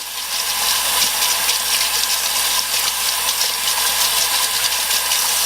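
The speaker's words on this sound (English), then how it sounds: "use hot tap water" Hot tap water runs in a steady, hissing stream to dissolve and wash away excess Wonder Fill from a master model, close and continuous with no voices.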